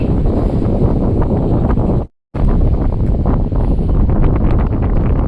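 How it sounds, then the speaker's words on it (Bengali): Strong wind on a river boat buffets the microphone as a loud continuous roar, cut by one brief gap of silence partway through. "কি বাতাস, অনেক পরিমাণ বাতাস।"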